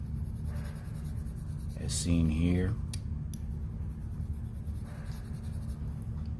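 A pencil tip scratches marks on the side of a nozzle gauge for blast nozzle measurement, a soft writing sound that sits under a steady low hum while someone speaks briefly.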